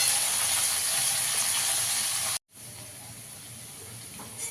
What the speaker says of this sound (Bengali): লাল লাল করে আলুটা ভেজে দিতে হবে।